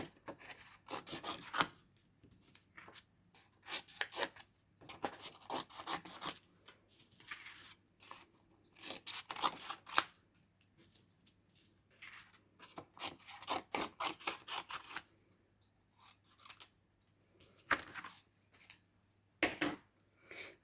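Close, soft snipping and rasping as paper shapes are cut out for card making, short bursts of scissor cuts repeating in irregular clusters with brief quiet pauses between them.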